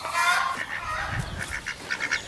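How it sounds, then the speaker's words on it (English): A mallard duck calls outdoors near a chicken shed, giving a run of short, nasal honking quacks that repeat in an uneven rhythm, fairly close and moderately loud, with no talking. "there's the mallard."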